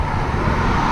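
A car passes close by on an open road, a loud steady whoosh of engine and tyre noise that lasts only a moment.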